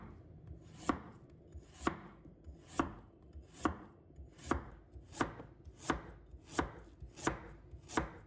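A knife chops half a carrot into slices on a cutting board, with ten sharp, evenly spaced knocks about one second apart, close and clear, and no voices.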